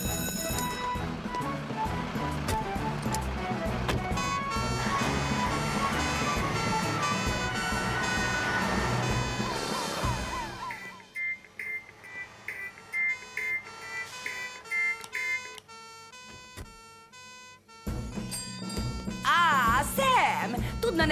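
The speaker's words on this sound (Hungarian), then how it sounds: "Érdekes szirénázó hang jön ki most ebből az izéből." A wailing siren-like alarm sounds in a Fireman Sam cartoon during a fire above a grocery shop, repeating steady electronic tones that begin after a busy stretch of music and effects and continue loud to the end.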